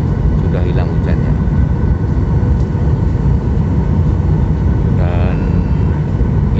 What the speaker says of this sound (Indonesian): sebentar lagi roda pesawat menyentuh landasan